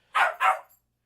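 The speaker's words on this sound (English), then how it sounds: "Hey, stop barking" A dog barks twice in quick succession, close and loud, with silence afterward.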